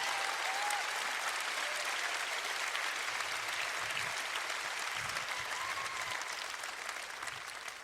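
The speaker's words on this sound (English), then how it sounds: "We would like to give a very generous round of applause for our faithful and fearless crew that travel all over the universe and get our show ready" Steady, full applause from a large concert crowd at a show, continuous clapping heard somewhat distant and even throughout, with faint cheers scattered in.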